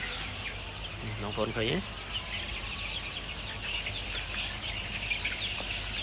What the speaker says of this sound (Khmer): នេះអូខ្លះចូលស៊ីក្នុងស្នូក